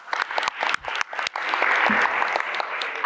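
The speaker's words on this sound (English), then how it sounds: "We're going to give them another round of applause." Audience applause at a community meeting; scattered individual claps build into steady, dense clapping from a room of people, moderately loud and sustained to the end.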